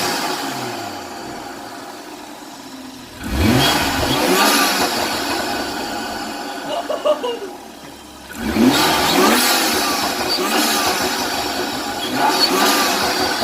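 Turbocharged engine of a BMW M235i (F22) fitted with a Burger Motorsports intake, revving loudly in two bursts with rising and falling pitch and turbo whoosh between them, close to the car.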